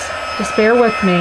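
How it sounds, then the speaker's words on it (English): A heat embossing tool blows hot air in a steady, close whoosh during card making while a voice speaks briefly over it. "Let's grab our little heat tool and we're going to go to town with the heat tool again."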